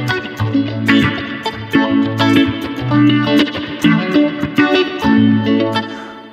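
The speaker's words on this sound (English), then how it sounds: "That's the phaser with a lot of reverb." Electric guitar played through a phaser effect with heavy reverb on a Line6 HX Stomp XL, loud sustained chords and notes that sweep and swirl, with a long washy tail and no talking.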